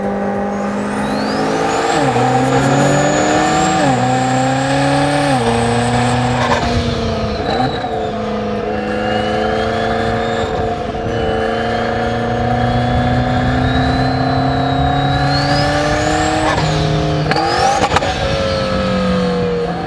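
A 1200 HP triple-turbo McLaren accelerates hard through the gears, its engine rising and dropping in pitch with each shift while a high turbo whistle spools up above the roar, loud and close from inside the car.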